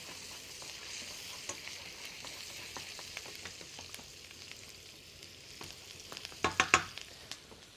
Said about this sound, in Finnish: Nyt annetaan noin porkkanat tuossa paistua semmonen 5 minuuttia.